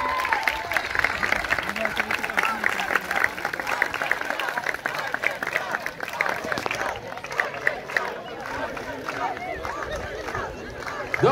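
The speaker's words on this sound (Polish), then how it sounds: "Jeszcze raz brawa dla nich na koniec." Crowd at an outdoor running festival in Kokotek applauds the race runners at the closing ceremony, a steady wash of clapping with scattered cheers and babbling voices throughout.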